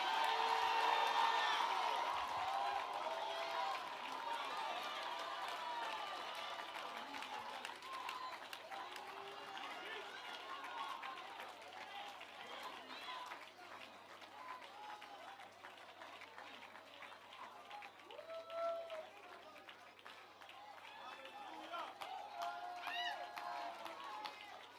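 A church congregation at New Jerusalem Cathedral claps, cheers and whoops in a long, continuous roar, loudest at the start and then holding steady with scattered shouts rising above the massed clapping.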